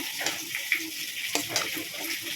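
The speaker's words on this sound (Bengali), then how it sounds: "তো সেটা এখন ভেজে নিচ্ছি" Rohu fish fries in hot oil in a pan, giving off a steady, moderate sizzle with small crackles and pops.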